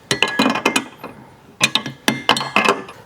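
A ratchet wrench tightens the ditch light bracket bolt on a 2024 Ford Ranger Raptor, giving two bursts of quick metallic clicks and clinks, close and crisp, separated by a short pause.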